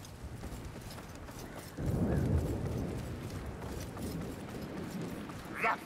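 Muffled horse hooves clopping over a rumbling low background in the video game Vermintide, rising partway through and continuing steadily, with a short sharp sound near the end.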